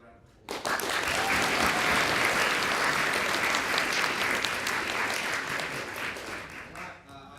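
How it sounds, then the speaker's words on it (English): A large audience applauds after a speech at a national schools debating semi-final, a dense sustained wash of clapping that starts abruptly, holds steady for several seconds, then thins out near the end. "Let's have another round of applause."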